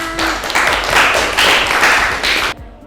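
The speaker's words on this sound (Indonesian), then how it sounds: "berikan tepuk tangan" Hands clapping together in a classroom during a lesson, a dense burst of group clapping, loud and close, running for a couple of seconds before it cuts off abruptly.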